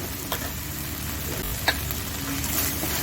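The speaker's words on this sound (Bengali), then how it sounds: "দিয়ে ভালো করে নাড়তে হবে।" Kashmiri chili powder is stirred into a spicy katla fish kalia with mustard paste in a hot pan, giving a steady close sizzle with a few sharp spoon scrapes against the pan and no talking.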